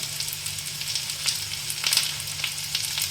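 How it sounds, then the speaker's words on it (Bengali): Ground cumin, turmeric and coriander spices fry in oil in a pan, giving a steady, close hissing sizzle with small crackles throughout. "সব মশলা এটাকে আমি এবার কষে নেব।"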